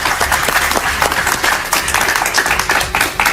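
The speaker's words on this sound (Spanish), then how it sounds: "Un aplauso para María Fernanda." An audience at a political talk applauds María Fernanda Cabal, a loud, close crowd of hands clapping in a dense, continuous patter with sharp individual claps standing out.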